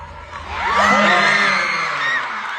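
A live show audience in Las Vegas erupts in loud cheering and whooping, a swell of many voices rising quickly and holding before easing slightly.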